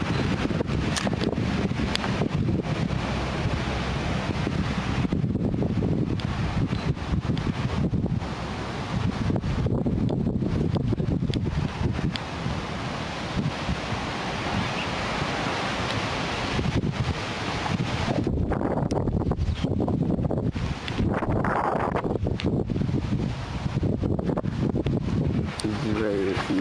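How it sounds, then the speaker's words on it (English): Strong, constant wind beside a canal batters the microphone with a loud, gusting roar that fluctuates but never lets up, with faint rustling mixed in. "It's very windy"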